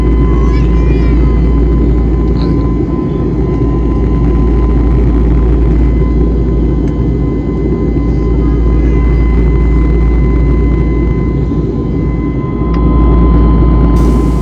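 Steady, loud low-frequency drone of a jet airliner cabin in flight, a constant engine hum with faint background voices.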